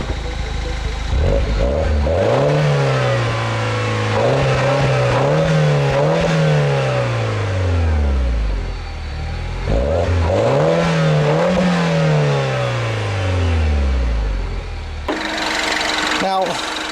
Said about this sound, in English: It gives you a pretty nice little whoosh sound when you're revving it